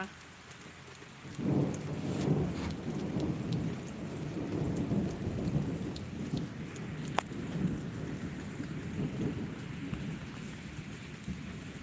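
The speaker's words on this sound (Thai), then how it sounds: "เสียงฟ้าร้องน่ากลัวมา" Low rumbling thunder rolls through steady rain, swelling after the first second and lingering in long waves, with raindrops pattering throughout.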